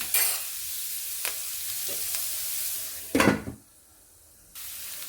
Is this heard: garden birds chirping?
no